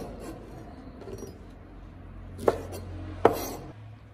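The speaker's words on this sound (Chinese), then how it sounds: "海鲜菇清洗干净，给它从中间切一刀，" A knife cutting seafood mushrooms into short pieces on a cutting board: two sharp, close knocks of the blade, spaced under a second apart, over low kitchen hum and faint handling sounds.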